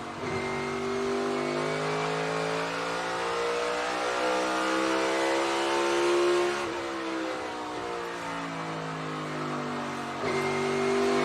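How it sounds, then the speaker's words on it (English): A NASCAR stock car engine accelerates during qualifying at a 2022 race, a loud, sustained roar whose pitch rises through the gears, dips briefly as the driver lifts and then climbs again, with no talking. "Got to the gas early. You heard him boom. Back to the gas, light switch."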